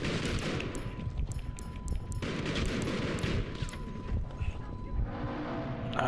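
Gunfire from a Battlefield V team deathmatch, fought with an SMG, pops in rapid, repeated shots over a busy battle soundscape. The sharp reports cluster in quick bursts throughout, and a voice talks over the shooting.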